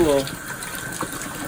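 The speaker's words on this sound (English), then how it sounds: "you want to make sure the hole opens up and the water's filling" Water gushes steadily through a toilet into an RV black water tank, a continuous close rushing flow after a brief louder burst at the start.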